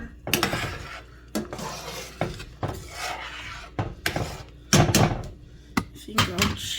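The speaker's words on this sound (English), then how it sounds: "I just came back in to give it a stir" Spoon stirring broth in a cooking pot: a series of irregular scraping and clinking knocks against the pot's sides, some sharp and loud, others softer rubbing strokes, spread over several seconds.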